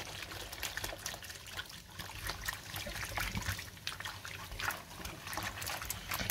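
Running tap water trickling and splashing in a sink while a teddy bear is washed, a close, fluctuating gurgle with small irregular splashes throughout, no voices.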